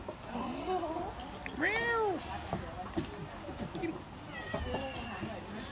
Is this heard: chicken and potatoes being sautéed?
no